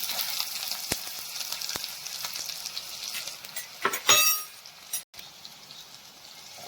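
Onions sizzling steadily in hot oil with tempered mustard seeds, cumin, star anise and cinnamon for dal tadka, a soft continuous frying hiss with a brief louder stirring burst near the end.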